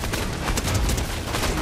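Dense, continuous gunfire from the Fortnite video game, a loud sustained barrage of overlapping shots with no clear gaps across the whole stretch.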